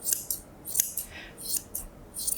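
Scissors trimming a poodle's coat near the ear and throat in a modern trim, a quick series of close, crisp metallic snips in an irregular rhythm, with no talking.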